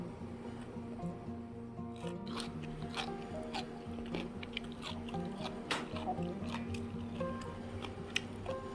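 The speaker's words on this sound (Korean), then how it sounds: "맛을 한번 보겠습니다. 정말로 아삭아삭" Crisp bites and chewing on pickled fleabane (개망초) jangajji during a tasting, with repeated moist crunches and squishy snaps scattered irregularly over a quiet background, close to the mic and without speech.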